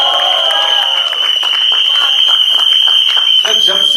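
Audience applause and cheering fill the hall at a film trailer launch event, a dense, loud wash of clapping with a steady piercing whistle-like tone above it and crowd voices mixed in throughout.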